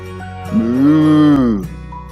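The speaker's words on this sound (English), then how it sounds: "the sound that a cow makes includes a moo" A single cow gives one drawn-out moo, close and loud, rising and falling over about a second with a clear, deep, tonal sound against a quiet background.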